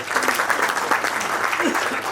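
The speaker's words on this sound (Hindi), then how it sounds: "एक बार बहुत जोरदार तालियां सब इनके लिए बजा दें।" An audience at a book launch event claps in sustained, even applause that fills the room, near and steady for the whole stretch with no voices standing out.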